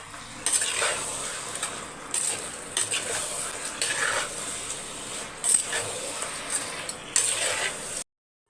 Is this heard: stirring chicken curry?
yes